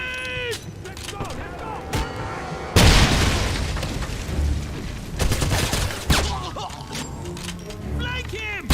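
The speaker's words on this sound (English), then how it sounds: "Grenade out! Grenade!" A grenade blows up in Wolfenstein (2009 fan remaster), a loud, sudden boom that tails off into a long rumbling roar while gunfire crackles and soldiers shout throughout.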